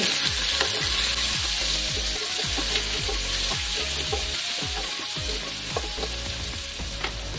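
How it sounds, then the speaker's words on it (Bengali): Two medium chopped onions frying in oil, with a steady, close sizzle and repeated scraping knocks as a utensil stirs them in the pan, and no voices. "এবার পেঁয়াজগুলোকে আমি লাল লাল করে ভাজবো।"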